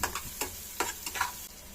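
Garlic, chopped onion and chili flakes frying in a pan for homemade pizza sauce, giving a steady soft sizzle broken by several brief stirring scrapes, close and fairly quiet.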